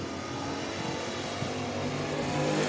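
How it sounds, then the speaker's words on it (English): Race cars, a laser car and an outlaw car among them, roar around the oval at Ark La Tex Speedway during the Mike Parker Memorial, a steady loud engine drone swelling slightly as they pass. "That's a laser race car on the inside, an outlaw race car on the outside"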